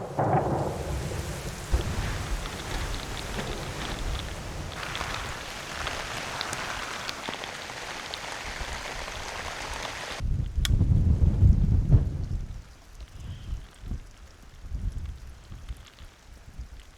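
Heavy rain drums on a barn roof in wet, difficult conditions during reroofing work, a dense steady hiss that swells into a louder close-up roar before easing to patchier patter, with thunder rumbling in the low end.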